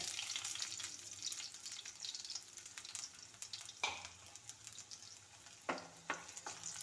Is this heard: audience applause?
no